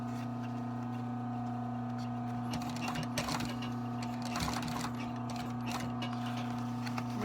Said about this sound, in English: to get a precise stitch, I like using my post machine